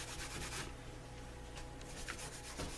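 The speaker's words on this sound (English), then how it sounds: "Let's give it a last buffing before I put a top coat on it." A cloth rubs and buffs a leather holster in quick, close, soft strokes. The light swishing comes in short bursts with no voices.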